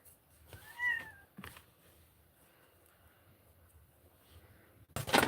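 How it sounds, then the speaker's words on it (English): A pet cat indoors gives a single clear meow near the start, followed by quiet room tone, a brief thump and a sharp rustling clatter at the end. "Oh, this dumb girl, my cat."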